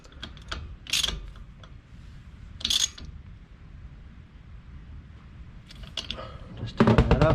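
Tool clicks and ratcheting while tightening a Compbrake Pro Race 5 big brake kit on an FN2 Civic Type R, coming in a few short, sharp bursts separated by quieter stretches, with a denser clatter at the end.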